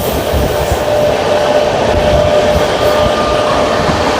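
A Jodhpur Superfast express train runs at high speed between Vijayawada and Ongole, giving a loud, steady rumble and rush of wheels and wind throughout, with no one talking.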